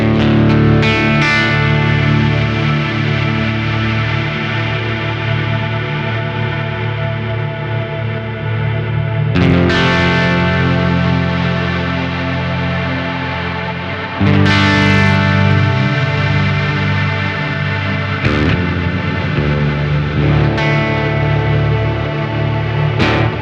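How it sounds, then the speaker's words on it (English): Meris Mercury X reverb pedal on its Spectrum Shift preset, sustaining huge washy chords that ring on and on with shimmering, pitch-shifted tails, each new strummed chord loud and swelling over the last, with no talking. "Right, so it's a big reverb, but I think it's gravity, and because it's gravity, it just keeps going on and on."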